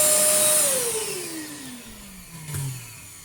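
A loud Einhell TC-VC1812 vacuum cleaner whines as its motor spins down, the pitch sliding steadily lower, followed by a brief bump near the end.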